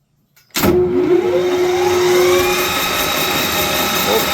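A Clausing Colchester metal lathe starts up and spins at 1800 RPM. It rises quickly to a steady, loud, close whine with a strong mechanical hum that holds evenly to the end.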